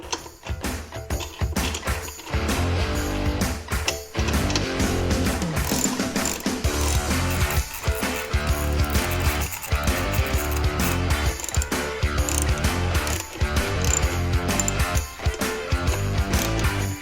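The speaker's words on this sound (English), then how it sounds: "to get these on, you need a 13mm socket" Ratchet with a 13mm socket tightening bolts on Viking motorcycle saddlebag quick-disconnect mounts, giving close, repeated clicking pawl strokes in uneven bursts for a long stretch, with no talk.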